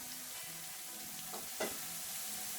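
Garlic and chilli flakes frying in a pan for spicy Indian-style masala pasta: a steady, faint sizzle runs throughout, with one or two soft scrapes of stirring near the end, and no voices.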